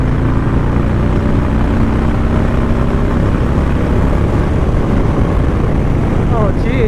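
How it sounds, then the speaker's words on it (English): A Harley-Davidson M8 Low Rider or Street Bob motorcycle rides at high speed, with a loud, steady low engine drone buried under heavy wind rush, constant and close throughout. "I don't think I've ever been on a Harley that feels this stable at these high speeds."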